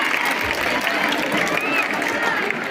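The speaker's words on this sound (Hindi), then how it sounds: "थोड़ा जोर से तालियां बजाइए," Audience clapping at a school annual function, steady and moderately loud, with crowd murmur and a few voices mixed in.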